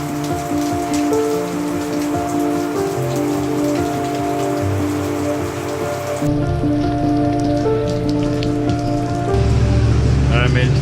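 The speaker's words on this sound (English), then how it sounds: "It's raining." Steady rain patters down during a bike tour in Hawaii, outside a restaurant, a continuous dense hiss that swells slightly louder near the end, with no voices.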